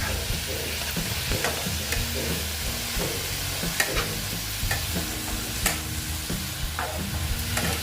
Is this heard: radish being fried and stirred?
yes